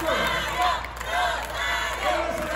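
A large crowd at a Guinness World Record event in Irapuato for the biggest strawberry agua fresca jar cheers and applauds loudly, swelling in waves, with a faint voice underneath.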